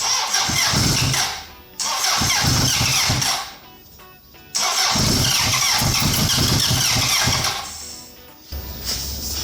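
The engine of a 1980 Honda CB750F motorcycle with a carburetor float-bowl fault is started without choke. It catches and revs loudly and roughly nearby, surging in several uneven bursts with dips between them. A faint squeal rides over the engine.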